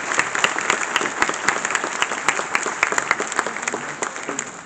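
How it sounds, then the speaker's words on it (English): Audience applause at an astronauts' talk, a loud, close burst of many hands clapping with busy, uneven claps that thin slightly toward the end. "you can clap."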